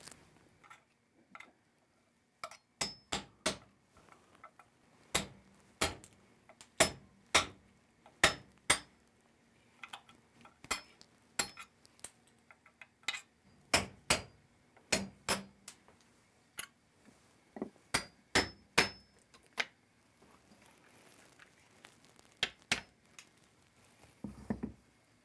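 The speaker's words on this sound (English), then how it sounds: "try to drift them out now with just a punch" Rivets are drifted out of a kitchen knife handle with a punch: sharp, clicking metallic strikes in irregular bursts and single taps, fairly quiet, with silent gaps between and no talk.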